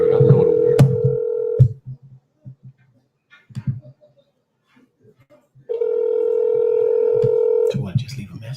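A telephone call rings twice, each ring a long, steady tone lasting about two seconds. Between the rings are faint clicks and soft muffled sounds, and a voice talks quietly nearby.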